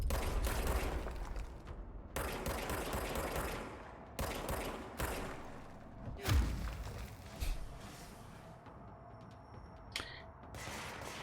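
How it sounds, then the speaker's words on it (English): Gunfire in the action game Control: loud, sustained bursts of rapid shots with brief pauses between volleys, followed by scattered thuds and single reports as the shooting thins out. "we need to get better at firing in this game"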